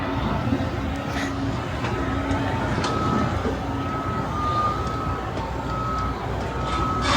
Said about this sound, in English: They got a lot of work vehicles over here driving around